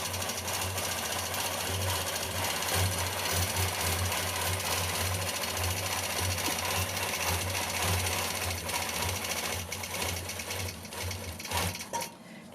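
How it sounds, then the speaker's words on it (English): A sewing machine runs a wiggle stitch along a quilt border, a loud continuous rapid mechanical whirring and clatter holding steady for most of the stretch before easing slightly near the end. "I'm just going to secure this border by doing what I call a wiggle stitch."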